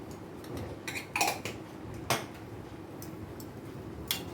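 Masala khichuri being stirred with garam masala in a nearly full kadai, a few soft spoon clinks and scrapes against the metal pan, quiet and close, with no voices.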